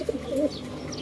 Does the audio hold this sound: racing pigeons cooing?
yes